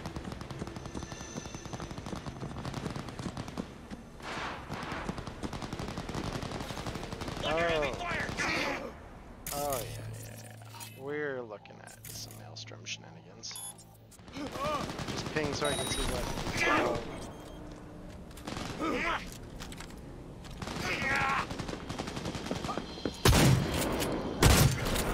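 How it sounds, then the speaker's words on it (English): Automatic weapon fire rattles in bursts within Cyberpunk 2077's Maelstrom territory, mixed with game sounds and mechanical clicks, while someone talks over it at moderate volume. "find out what guns are getting shot real quick. Oh, I hear them off the left here."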